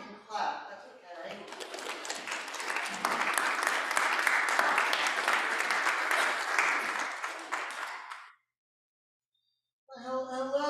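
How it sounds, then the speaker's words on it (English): A church congregation at a Christmas Eve candlelight service breaks into sustained applause after music, with talk just before, the clapping stopping abruptly before a voice resumes. "If you want, you can clap."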